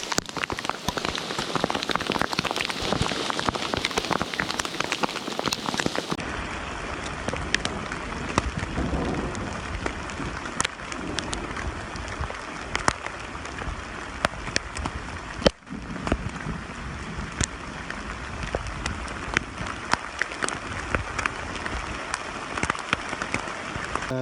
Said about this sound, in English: Oh, lovely! Here comes the hail.